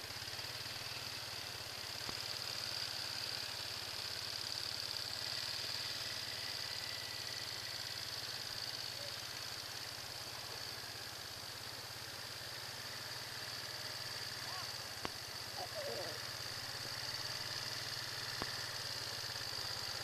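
Big Bear ATV engine running steadily during a ride, a constant mid-pitched drone that holds near and even throughout with no talk over it.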